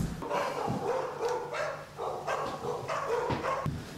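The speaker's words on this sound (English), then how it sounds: "the dogs are going fucking mad" Several dogs bark repeatedly and excitedly at moderate distance, a steady run of overlapping woofs and yips with short whimpering notes between them.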